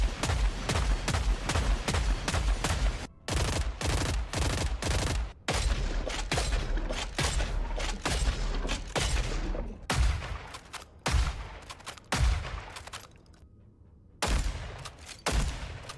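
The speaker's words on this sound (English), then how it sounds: "Do you notice that the guns all sound the same?" Rapid, dense gunfire from weapons in the video game Killing Floor 3, with bursts of shots and booms packed closely together. The bursts are split by brief gaps and stay loud throughout with no talk.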